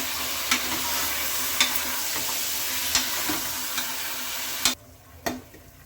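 A spoon stirs mutton with turmeric and salt in a hot pan, a sizzling, frying hiss with regular scraping strokes that drops sharply near the end and leaves a few last clinks.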